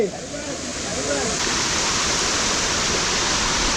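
A steady, loud rush of a waterfall at Zirad fills the whole clip, a dense broadband roar with a faint voice at the very start.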